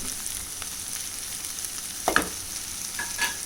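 Okra and onions sizzle and fry in a pan with spices, a steady low hiss throughout with a few brief clinks and stirring scrapes near the end.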